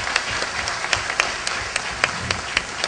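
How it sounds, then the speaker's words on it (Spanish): Sparse, scattered clapping from an audience greeting a visiting foreign delegation at a morning university gathering, a handful of distinct claps over a steady room hum. "yo quiero pedir un fuerte aplauso para la delegación extranjera que nos visita"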